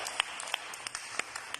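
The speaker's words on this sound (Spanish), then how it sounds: "¡Aplausos a César!" Applause for César at a Spanish-language recovery group meeting on powerlessness over alcohol, a steady patter of clapping with sharper individual claps standing out, fairly faint and distant, lasting under two seconds.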